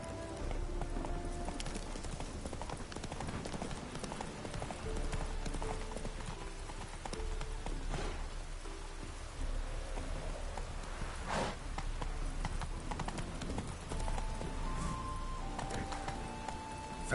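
Roach the horse gallops at speed in the video game The Witcher 3, a continuous rapid clip-clop of hooves over a steady game soundscape with no talk.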